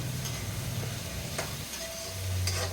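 Tomatoes fry in a pan in a soft, continuous sizzle close by, broken by a few light clicks from stirring, with no one speaking.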